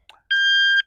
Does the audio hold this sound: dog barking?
no